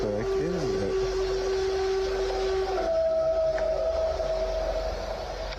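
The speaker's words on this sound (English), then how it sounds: "An ominous howl echoes through the trees." A long, steady, eerie wail holds one pitch, then shifts slightly higher and sustains, loud over a dense rumbling background with no talking.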